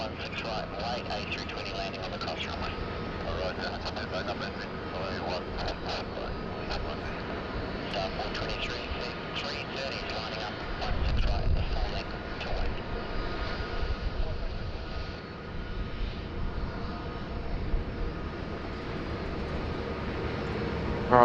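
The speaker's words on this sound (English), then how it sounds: "Malaysian 122 there, already given clearance to line up on runway 16 right" A Malaysian airliner taxis at Sydney Airport, its engines a steady broad roar that holds throughout with a brief swell in the middle, while a voice talks underneath.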